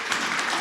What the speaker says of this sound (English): So please, maybe some applause for her.